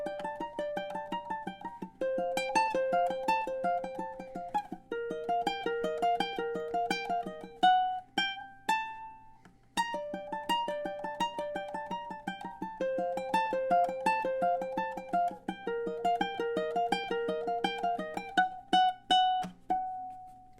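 Ukulele picking the melody of a song in its original key, with clear plucked notes over sustained tones in an even, unhurried rhythm, close and moderately loud with no talking.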